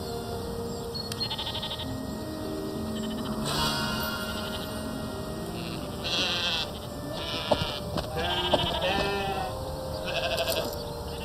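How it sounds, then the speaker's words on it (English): Sheep bleat repeatedly in a video game, several calls spread across the stretch with background music or ambience, no speech. "This has to be the work of my three black sheep."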